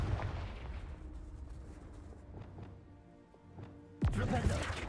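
The Bombarda and Confringo explosion spells go off in Hogwarts Legacy, low booming blasts under game ambience with a sharp, loud burst near the end.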